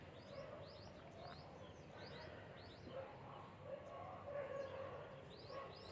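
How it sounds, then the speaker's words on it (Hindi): Dogs bark in a Minecraft survival world: faint, repeated yipping barks scattered over a low background hum, with soft chirps mixed in. "कुत्ते भौंक रहे हैं"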